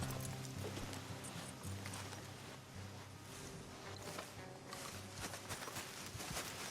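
Horses walk with steady clip-clopping hooves on a hard surface, a soft rhythmic patter under ambient outdoor noise, in the video game Red Dead Redemption 2.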